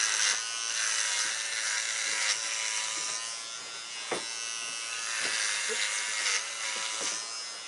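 Electric hair clippers buzz steadily and close by throughout a home haircut, with a few brief clicks and small bumps as the blades move through hair; no one speaks.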